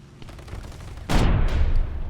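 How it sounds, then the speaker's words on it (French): Yak-9 fighter strafing with gunfire in an online tank-battle video game, a loud burst of rapid shots breaking in halfway through over quieter game noise. "C'est Rastafari qui va se faire sûrement strafe par le Yak 9"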